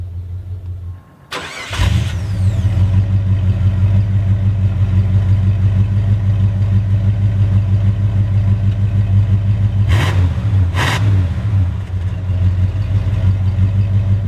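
A 1989 Jeep Grand Wagoneer cranks and fires after a brief hiss, then settles into a loud, steady low idle rumble that continues to the end, with a couple of faint clicks partway through.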